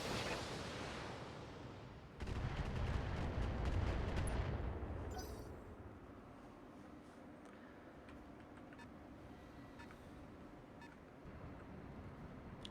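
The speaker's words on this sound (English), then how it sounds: "Discharging weapon." Mech weapons firing in the video game Battletech, a loud rumbling volley of shots that builds quickly and then fades into a lower, steady rumble with faint blips.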